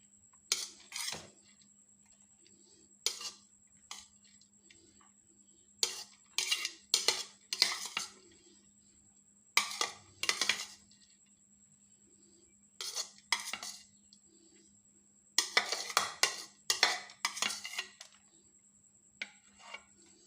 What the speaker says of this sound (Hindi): अब मैं जो बाकी बचे हैं चावल वो भी इसके ऊपर ऐसे गोश्त के ऊपर सारे डाल दूंगी।